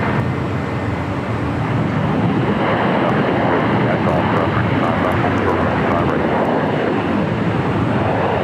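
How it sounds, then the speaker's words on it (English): A corporate jet moving in or out of LAX roars steadily and loudly for the whole stretch, a broad continuous jet-engine rush with some wind noise over the microphone. "A lot of corporate jets in and out of LAX today."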